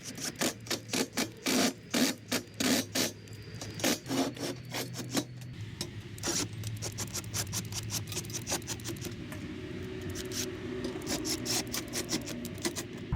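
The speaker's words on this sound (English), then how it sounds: "We're going to be putting these Tapcon bolts in here." Tapcon bolts being driven into drilled holes to fasten a window well, a run of rapid rhythmic grinding bursts followed by a steadier rasping drive, close and fairly quiet, no talking.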